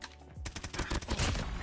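Rapid bursts of PP19 submachine gun fire in a ranked first-person shooter match, close and loud, packed tightly with overlapping shots and no talk.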